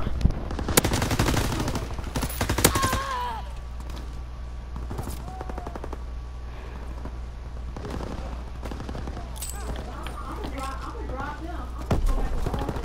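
A PPSh submachine gun fires in a video game, with rapid, loud bursts of automatic fire repeating through the clip while a person talks over the shooting.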